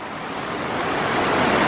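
Water rushing over a stream crossing on a backpacking trail, a steady broadband roar that swells slightly louder toward the end, with no voices.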